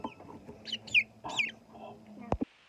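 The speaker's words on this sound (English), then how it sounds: "But Pekins are good pets, make good kids' birds." Short bursts of Pekin bantam hen clucking and chirpy calls at close range, with a brief sharp knock near the end and some low background rumble.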